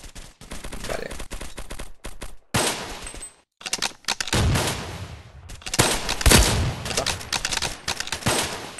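Rapid bursts of turret gunfire in the online shooter Arghost, loud stuttering volleys broken by short silences and running through the whole stretch, with no talk over them.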